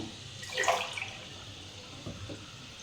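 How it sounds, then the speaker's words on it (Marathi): Water is poured over clay cooking pots to soak them, a short close splash and gush early on that fades into quieter trickling. "जितकी पूर्ण बुड बुडतील तेवढं पाणी घालून ही भांडी आपण एक दिवस पूर्ण ही याला भिजून देऊ"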